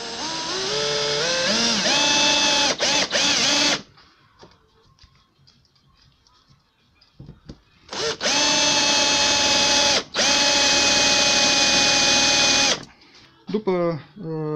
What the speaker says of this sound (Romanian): luăm un burghiu mic, un burghiu de 3, de 2, de cât o fi, și începem să găurim, să facem o pregăurire